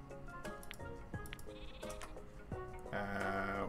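Sheep bleat in the video game Miniland, several short wavering calls spread across the moment, with game music or chimes playing behind them and getting louder near the end.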